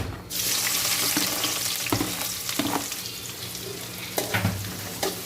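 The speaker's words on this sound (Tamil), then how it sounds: "ஆயில் ஹீட் ஆன உடனே வெங்காயம், சின்ன வெங்காயம் பெரிய வெங்காயம் ரெண்டுமே நான் மிக்சிங்காக தான் போட்டிருக்கேன்" Small and big onions fry in hot oil with a loud, continuous sizzle, broken by a few stirring scrapes and clinks close by, with no talking.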